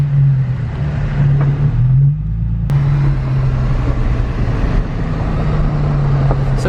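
Nissan 350Z on a test drive, heard from inside as a steady, loud engine hum and road roar with a low tonal drone that dips briefly, then holds on continuously.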